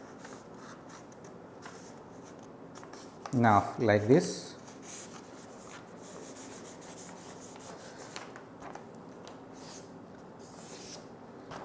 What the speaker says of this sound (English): First you have to fold your paper like this.